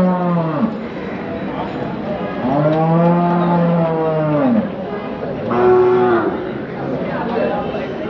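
Cattle at the Chakan bullock market give several long, loud moos and bellows close by, one after another, over a murmuring crowd.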